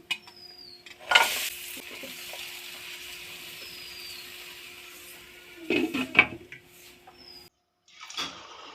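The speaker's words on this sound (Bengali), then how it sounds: "আমি আর এক ভেজে নেব এই ব্যাচটাকেও আমি ভেজে নিয়েছি" Semolina sweets frying in oil, a faint continuous sizzle broken by two louder bursts of bubbling and clatter as the sweets are moved and lifted out, up close and without talking.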